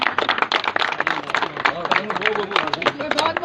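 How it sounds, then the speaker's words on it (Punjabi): Clapping from a crowd gathered at a pigeon-flying club tournament prize ceremony, a dense patter of hands that runs throughout, fairly close, with voices mixed in beneath it. "ਠੀਕ ਤਾੜੀਆਂ"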